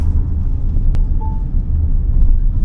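A 2025 Haval H7 Super Lux AWD 2.0T drives over gravel with a loud, constant low rumble of tires and engine inside the cabin, with a single sharp click partway through.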